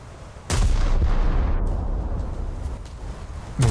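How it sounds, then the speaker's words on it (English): Heavy naval gunfire from warships in the World of Warships video game opens with a sudden loud boom that rolls into a long rumbling tail, with another blast at the end. "Hostile Helena shooting at me from distance."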